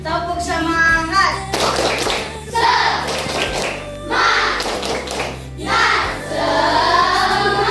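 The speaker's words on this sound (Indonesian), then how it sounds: "Tepuk semangat." A group of children claps in quick rhythmic bursts at a classroom gathering, the patterned clapping alternating with lively children's voices and chanting.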